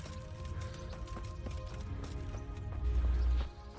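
A horse in Kingdom Come: Deliverance runs with a steady, rapid clip-clop of hooves. The hoofbeats sit in a layered game soundscape, with a deep rumble swelling near the end.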